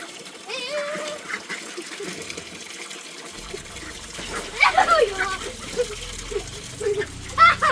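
Water runs into a tub being filled to bathe ducklings, a continuous trickling and splashing pour heard under frequent talk from an adult and a child.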